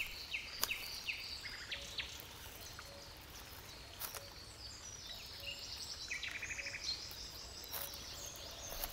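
Crane chicks two days old call along a wild European river, thin high peeps repeating faintly among other soft chirps and insect-like ticks in quiet open air.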